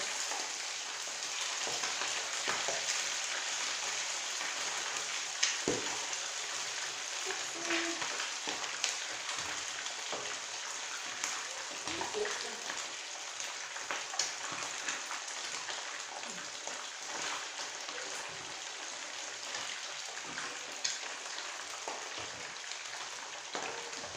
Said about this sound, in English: fry it in my sauce.